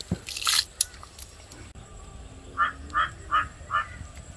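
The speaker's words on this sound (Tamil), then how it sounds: "குழம்பு நல்லா கொதிச்சு போச்சு" Thick fish gravy boiling in a clay pot, with a short rattle early on, then a run of four soft, evenly spaced bubbling plops close by over a quiet background.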